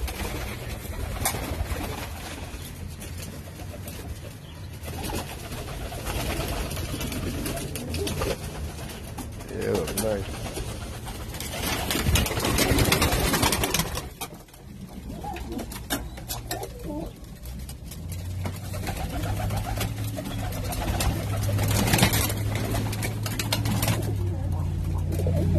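Tippler pigeons at a loft in New York City give low, steady cooing, with wing flapping and rustling bursts and someone speaking at times over the birds throughout.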